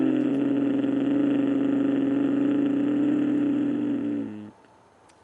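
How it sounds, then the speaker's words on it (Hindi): Ujjayi pranayama breathing drawn through a deliberately constricted throat makes a steady, close, rasping hiss-like tone that holds evenly for about four and a half seconds and then stops. "ये जो आवाज है ये उज्जाई है।"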